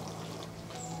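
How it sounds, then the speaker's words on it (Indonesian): Instant thick coconut milk pouring steadily into a pan while cooking sambal goreng krecek, a soft continuous liquid stream heard up close with no talk. "Sekalian juga kita tambahkan santan. Aku pakai santan kental instan."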